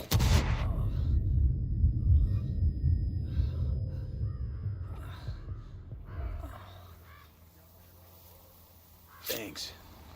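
Frag grenade blast and rifle fire around a watchtower in Ghost Recon Wildlands, a loud burst at the start that fades over several seconds, with a sharp report near the end and voices talking over it.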